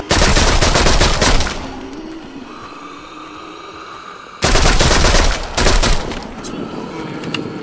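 Rapid gunfire in a zombie video game comes in two loud bursts of dense automatic shots at close range, with quieter game sounds and tones between them.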